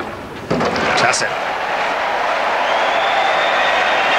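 A Hamburg tennis crowd at the 2003 Hewitt vs Hantschk match bursts into sustained applause and cheering, a dense, loud wash of clapping that swells suddenly and holds steady.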